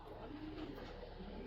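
Female racing pigeon cooing softly, a low, quiet murmur close by with faint background hiss.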